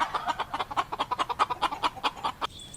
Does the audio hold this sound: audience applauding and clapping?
no